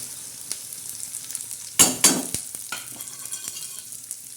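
Dried bombil (Bombay duck) sautés in a pan with a constant close sizzle, broken by two loud bursts of spatula stirring and scraping, then lighter taps as the frying continues.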